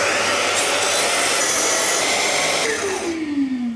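A power saw cuts wood at a 15-degree angle, a loud, harsh, steady whine throughout that cuts off near the end and winds down with a falling tone.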